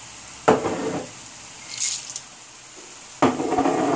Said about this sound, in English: And now we have to cook again till the sugar get absorbed nicely with the carrot.